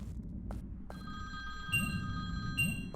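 A telephone rings in the video game Dark Lurker, with electronic bell tones in two bursts over a low steady game ambience, with no talk.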